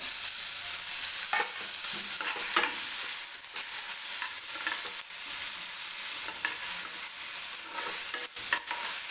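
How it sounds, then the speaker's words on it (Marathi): Chopped tomatoes frying in oil for a potato kurma: a dense, constant hiss of sizzling close up, with scattered clicks and scrapes of a spoon stirring through the pan and no talking. "टोमॅटो व्यवस्थित तेलामध्येच परतून घ्यायचा आहे"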